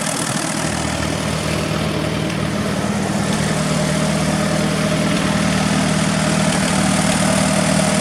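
Allis-Chalmers WD tractor engine idling steadily after startup, a loud, continuous low rumbling drone with a constant mechanical hum and no talk.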